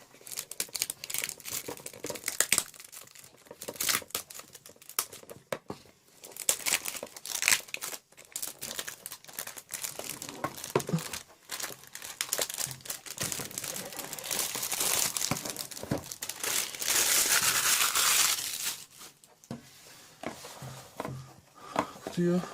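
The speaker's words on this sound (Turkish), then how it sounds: "Şimdi yırtıp, yırtıp açalım." Cardboard and plastic packaging of a Medisana infrared thermometer being torn open by hand, a long run of close crinkling, ripping and rustling bursts, with someone talking quietly at times.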